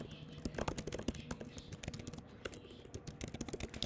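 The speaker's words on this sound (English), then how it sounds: "Sorry, I'm typing at the same time." Rapid, irregular clicking of a computer keyboard being typed on, moderately quiet and continuous, with a low voice occasionally audible beneath the keystrokes.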